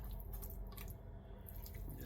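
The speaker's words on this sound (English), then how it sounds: "just pour this mixture over the top of my flattened out rolls in the pan." Thick pumpkin dump cake batter pours and drips wetly over flattened rolls in a baking pan, a soft, close, continuous splatter with no talking.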